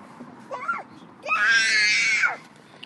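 Babies cry and scream: a short whimpering wail, then a louder, sustained high-pitched scream lasting about a second, close by.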